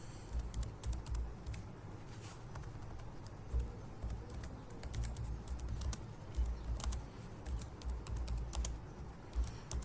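Fingers type HTML code on a computer keyboard in a steady, busy patter of soft close key taps with occasional firmer strokes, all fairly quiet and with no one talking.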